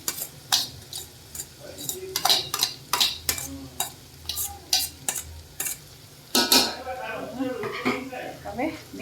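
Noodles and spices tossed together in a pan, giving a string of sharp scraping and clinking stir strokes in an uneven rhythm, close and fairly loud, with some voice and kitchen noise in the background.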